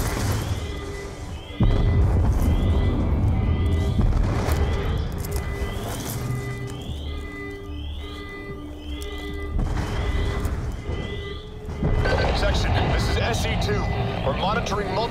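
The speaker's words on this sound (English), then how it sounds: "monitoring multiple explosions across the facility" Explosions go off across a facility in the video game Call of Duty Black Ops 2. Heavy booms and rumbling blasts recur every few seconds, with deep low thuds layered under radio chatter and other game sounds.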